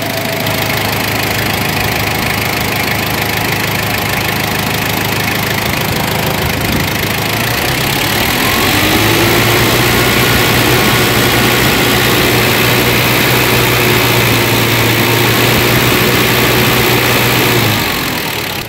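A Ford Everest engine idles as it warms up after a radiator replacement, giving a steady, close, continuous drone. A fan-like hum joins about halfway through and runs to the end. No one speaks.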